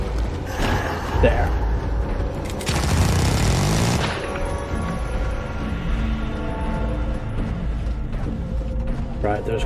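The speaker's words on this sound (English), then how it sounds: "the minigun is ridiculously overpowered" Minigun in the video game Carrion fires in a dense mechanical whirring burst, loud and close, amid clanking, grinding game sounds and music.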